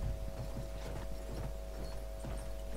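Rhythmic clip-clop of horse hooves in Battlefield 1 at a steady trotting pace, faint and slightly synthetic-sounding, over a soft steady hum.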